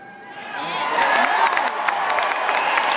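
Large political rally crowd in Pensacola cheering and applauding, a swelling roar of claps and shouts that builds and holds loud and close.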